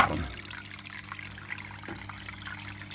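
Water churns and trickles steadily from an Aquael Versamax 2 aquarium filter just restarted after priming, a continuous moderate splashing flow with a brief louder gush at the start.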